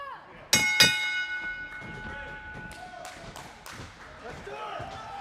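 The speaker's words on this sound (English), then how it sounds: "Ring the bell!" A wrestling ring bell struck twice in quick succession at a pro wrestling show in Vista, California, with bright ringing tones that decay over a couple of seconds against crowd noise and a voice.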